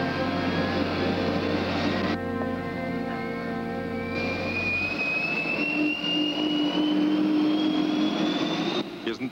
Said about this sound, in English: Isn't that your aircraft